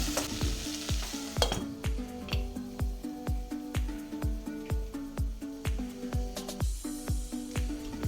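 Tomatoes and spices for pepper chicken sizzle and fry in a pan while a utensil scrapes through them in a steady rhythm, roughly two strokes per second, close and fairly quiet.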